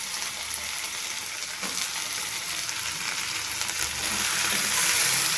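Drumsticks fry in a pan with onion, tomato and ginger garlic paste, giving a continuous, close hissing sizzle that holds steady throughout with a faint stir partway through and no voices.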